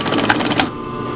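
Sewing machine running a short burst of rapid, even stitches on wool blanket fabric, close and loud, then stopping abruptly into a quiet hum.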